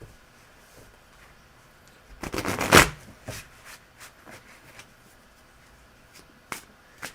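Tarot cards being shuffled by hand, one brisk riffle burst up close followed by scattered light taps and card handling, with no talking.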